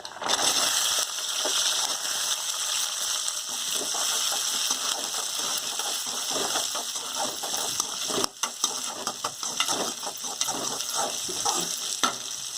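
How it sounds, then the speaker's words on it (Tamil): Shallots and garlic sizzle in hot oil with popping mustard seeds for a Tamil garlic gravy, a steady loud crackle with occasional stirring clatter close by. "இப்போ நம்ம வந்து சின்ன வெங்காயமும் பூண்டையும் போட்டுக்குவோம்."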